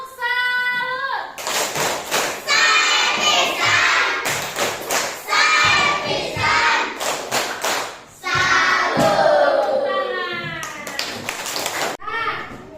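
Children in a classroom chanting and clapping the tepuk salut clap routine, sharp rhythmic group claps and thumps alternating with loud sung voices, close and energetic.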